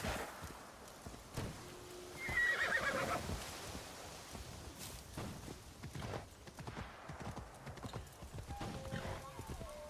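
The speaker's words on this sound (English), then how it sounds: "Can't even drive a horse in a video game." Horse hooves clip-clop with a sharp neigh in Assassin's Creed Shadows gameplay, the hoofbeats steady and close while someone talks over them.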